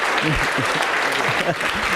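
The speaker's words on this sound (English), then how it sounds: "Big round of applause here" An audience at a learning session gives a steady round of applause, moderately loud and continuous, with a voice speaking briefly underneath the clapping.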